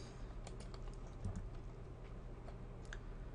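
Steady, rapid typing on a computer keyboard during a card game draft, with close, light clicking keystrokes running throughout.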